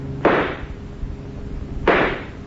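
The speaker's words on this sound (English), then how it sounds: "I'm going to try and shoot out a tire." Two sharp gunshots aimed at a fleeing car's tire in an old-time radio crime drama, loud, close reports spaced well apart, each with a short decaying tail over faint background, with no talk.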